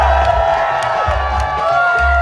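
Loud crowd at a breakdance battle in a cypher, cheers and shouts blending into a dense, steady roar with occasional sharper whoops.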